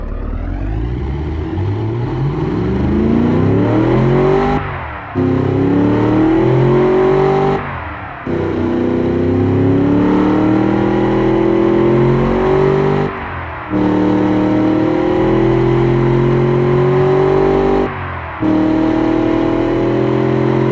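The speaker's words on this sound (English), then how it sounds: "Let's hear the new high flow, low restriction air intake system." A car engine fitted with a high-flow, low-restriction air intake revs repeatedly through a throaty intake, rising in pitch, then dropping away in short pauses between each loud, close pull.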